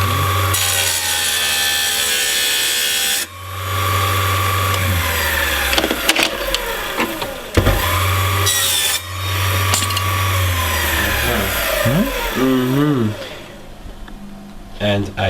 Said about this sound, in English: So he's trimmed that piece of wood up to be 8 millimeters